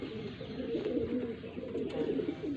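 Pigeons of Pakistani breeds, Rampuri and golden, in a loft in Faisalabad, murmuring in continuous low overlapping coos close by, with faint background sounds.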